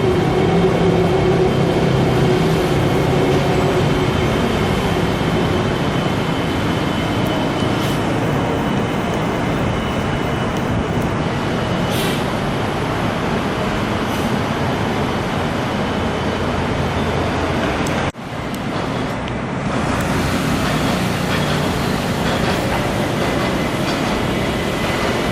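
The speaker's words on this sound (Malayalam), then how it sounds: "മെട്രോ ട്രെയിൻ വരുന്നതിൻ്റെ" A Rapid KL metro sky train on an elevated track in Kuala Lumpur passes with a loud, sustained rumble and rail clatter, holding steady throughout apart from one brief dip late on.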